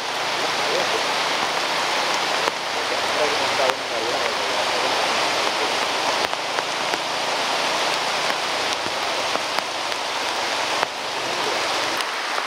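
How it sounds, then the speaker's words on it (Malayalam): Heavy rain pours steadily onto a road through the Konni–Achankovil reserve forest in Kerala, a dense, continuous hiss of drops and runoff heard close and loud throughout, with no voices. "അത്യാവശ്യം നന്നായിട്ട് മഴ പെയ്യുന്നുണ്ട്."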